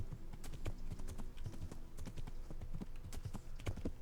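Horse hooves clip-clop steadily in Kingdom Come: Deliverance, a brisk, even rhythm of close, distinct hoofbeats with no talking over them.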